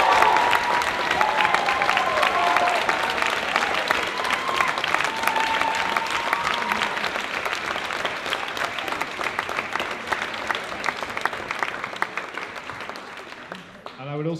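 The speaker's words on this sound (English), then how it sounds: "could we maybe just have a round of applause for the candidates?" A room full of people applauding the candidates on a student union election results night, dense, sustained clapping with some crowd noise, tapering off near the end.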